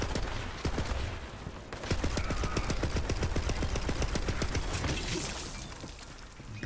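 Rapid, evenly spaced shots from a Hyperion SMG in Borderlands 3, a steady loud burst that runs for several seconds and then trails off, with no talk over it.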